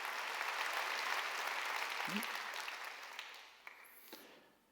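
A Korean church congregation claps during a Sunday worship sermon, a quiet, steady wash of applause heard at a distance, fading with a few stray noises near the end.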